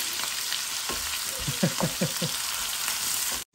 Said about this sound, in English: That's the part where it sizzles like crazy.